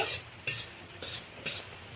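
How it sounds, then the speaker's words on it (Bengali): Dried red chillies frying in a little oil in a pan, with four sharp bright bursts of sizzle and scraping at roughly half-second intervals over a low steady hiss, close and moderately loud. "লঙ্কাটা একটু অল্প তেল দিয়ে ভেজে নিচ্ছি"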